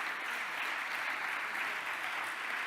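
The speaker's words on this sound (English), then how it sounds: "shall we once again applaud for all of our winners" An audience applauds winners at a European heritage awards ceremony, a steady, dense wash of clapping that holds evenly throughout with no voices over it.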